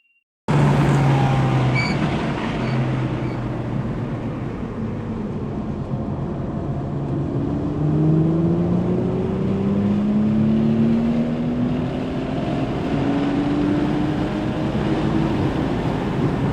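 A B9 Audi S5 laps Barber race track, its engine note climbing and falling in long sweeping pitch runs through turns, a loud, steady in-car drone with road roar underneath.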